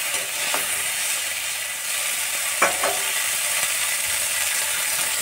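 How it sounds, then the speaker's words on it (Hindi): Nenua flowers and pumpkin leaves fry lightly in a pan with a constant loud sizzling hiss, broken by one or two soft stirring knocks, close and steady throughout. "तो हल्का हल्का इसको भून लेंगे।"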